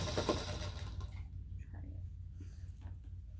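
A sewing machine runs in a quick burst of rapid mechanical stitching for about a second, then stops, leaving a low steady hum and faint rustling.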